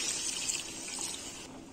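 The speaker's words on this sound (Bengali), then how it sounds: "এবার পরিমাণ মতো জল দিয়ে দেব" Water pours into a pot of browned chicken curry, a steady close hiss that runs for under two seconds, then cuts off.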